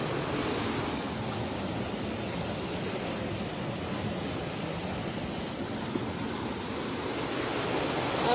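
Continuous broadband roar of a fast-flowing, swollen river below Harike Pattan toward Ferozepur, steady and unbroken throughout, with no voices.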